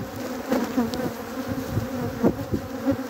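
Honey bees hum steadily at an open hive whose queen has stopped laying, a close, continuous buzz with a few louder passes of individual bees flying near.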